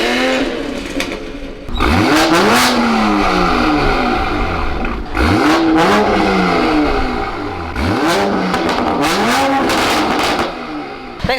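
A 2020 Toyota Supra fitted with an AWE exhaust revs hard in repeated loud bursts, the engine note climbing and falling through several sweeps with crackles between pulls, close and dominant.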